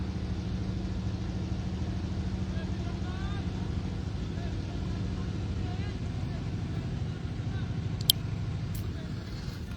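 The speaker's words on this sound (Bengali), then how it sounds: "বড় নৌকা আসতেছে" A big wooden country boat's engine drones steadily at mid distance in a foggy winter village, a constant low hum running throughout, with a brief sharp knock near the end.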